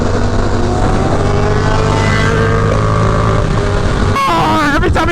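A motorcycle engine drones loudly and steadily on the road, its pitch stepping with each gear shift, then a sharp rev burst and rapid throttle blips near the end.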